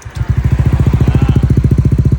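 A Honda Giorno scooter with an open exhaust, not yet remapped, fires up and settles into a steady, close, fairly loud idle with a quick even pulse and a soft, smooth tone.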